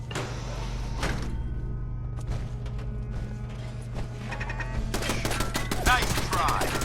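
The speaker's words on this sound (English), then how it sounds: "We've got turrets ahead." Automated turret fire in the video game Fallout 4, a steady mechanical whirring under rapid, dense bursts of gunfire that swell louder toward the end, with game sounds throughout.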